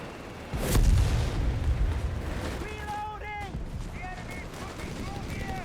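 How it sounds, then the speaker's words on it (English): Assault grenades explode in the video game Company of Heroes 3: one loud, deep blast lands near the start, then battle noise rumbles on with a voice faintly in the background. "Assault grenades called in here"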